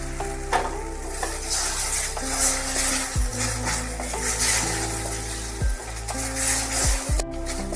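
Beaten egg frying in ghee in a wok for egg bhurji, a steady bright sizzle broken by repeated scraping strokes of a spatula against the metal, close and clear with no voices.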